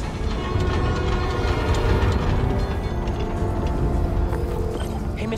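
A New York subway train in Spider-Man: Miles Morales rumbles along continuously, a loud, dense rolling clatter of wheels and carriages with no voices over it.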